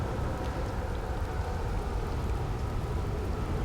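Steady rain in the video game Outer Wilds, a soft continuous patter and hiss of drops falling on surfaces, evenly sustained at a moderate, fairly quiet level with no voices.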